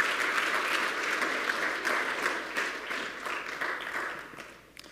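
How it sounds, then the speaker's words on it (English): A church congregation applauds during an Easter Sunday service at a Baptist church, a dense, loud, sustained clapping that fades slightly at the end. "Let's give them a round of applause."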